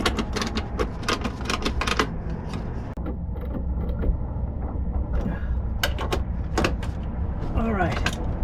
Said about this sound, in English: I found a ratcheting closed box end that makes things just a little quicker and easier.